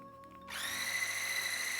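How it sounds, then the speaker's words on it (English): An electric hand mixer whirs into action in a bowl of three eggs, a high steady motor whine that starts abruptly after a brief quiet moment and stays close and even. "I will place the 3 eggs in a bowl, and I will use this hand mixer"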